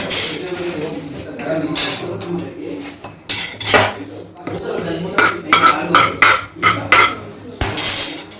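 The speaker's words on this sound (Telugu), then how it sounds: "వేపుకుంటాను దీంట్లోనే ధనియాలు ఇస్తున్నాను" Coriander seeds and curry leaves dry-roasting in a pan make a busy clatter as a utensil scrapes and clinks against the metal in uneven bursts, with birds chirping in the background throughout.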